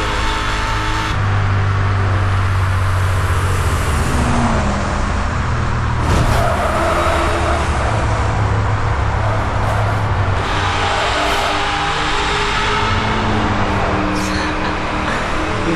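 A Dodge Charger in Need for Speed Hot Pursuit roars continuously with engine revving and shifting drone over rushing road noise, loud and sustained, with no talking.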